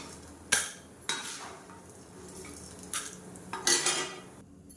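Roasted urad dal is scooped out of a kadai onto a plate, with several sharp metal spoon scrapes and clinks against the pan between quieter gaps, heard close and without talk.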